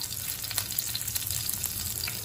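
Green chilies and curry leaves fry in hot oil for a spice-free carrot stir-fry, giving a steady close sizzle with small scattered crackles throughout and no talking.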